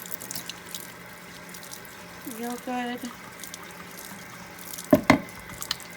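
Tap water runs steadily in a sink while makeup brushes are washed and lathered, a soft continuous stream heard close with a brief spoken voice over it.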